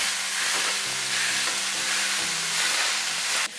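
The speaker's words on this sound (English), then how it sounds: "I'm just going to add the ground beef into a nice and hot pan." Ground beef hitting a hot pan gives a loud, steady sizzle and hiss that runs through the clip, with a faint clatter of stirring and no talk.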